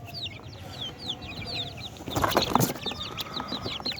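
Baby chickens chirp in high, quick peeps on a sunny rooftop in the morning, a steady scatter of small calls with a louder burst of clucking and fluttering in the middle.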